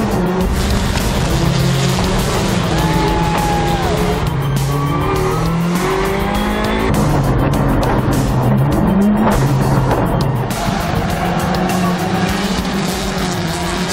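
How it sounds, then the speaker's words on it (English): Rallycross race cars battle through a heat, engines roaring and shifting pitch as they accelerate and pass, with tire noise and continuous loud racing din throughout. "In the first heat, Bucky reacts quickly to avoid a collision with a slow-starting Reese Millen"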